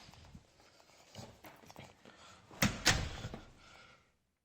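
A door opening and closing during a test of a Honeywell home alarm's entry delay: a few soft knocks and footsteps, then two louder close thumps near the end, indoors and fairly near.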